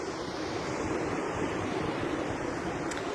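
Ocean waves washing on the shore, a steady broad surf rush with some wind, continuous and moderately loud, no voices.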